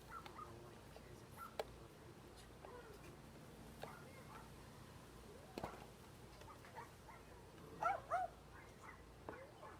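Dogs give scattered faint whimpers and a few short barks and yips at a distance, with a brief cluster of louder yelps near the end, over quiet outdoor background.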